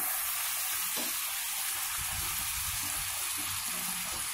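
Snake gourd sizzling in a kadai while being stirred, a steady broadband hiss of frying with soft, uneven scraping strokes underneath, close and continuous with no voices.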